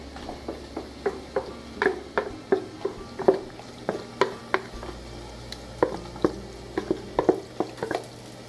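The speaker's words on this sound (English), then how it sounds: "I'm just mixing in the Bragg's amino as well as the turmeric" A spoon stirs turmeric and liquid aminos into a tofu scramble in a pan. The scrape and tap of the utensil repeat in a steady rhythm of clicks over a low background hum, with faint sizzling underneath.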